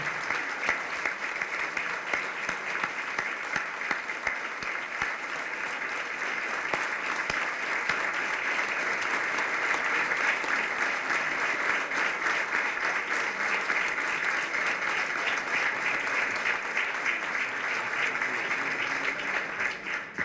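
Steady audience applause at a public talk on Spanish history, a continuous wash of clapping that holds at an even level throughout and sounds somewhat distant.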